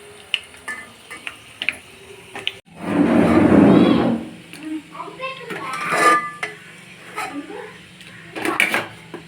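Fried red chillies shifted from a frying pan into another bowl, with a loud burst of scraping and rattling around the middle and scattered clinks of metal utensils against pots, a voice speaking intermittently.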